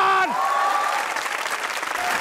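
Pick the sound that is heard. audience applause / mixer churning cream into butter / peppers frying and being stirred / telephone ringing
audience applause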